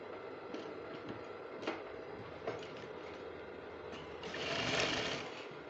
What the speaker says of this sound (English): Then you now sew with half an inch.